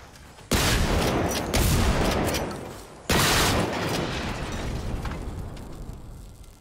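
Two heavy shotgun blasts boom in the video game Generation Zero during a barn siege, each sharp report followed by a long, fading rumble, loud and close.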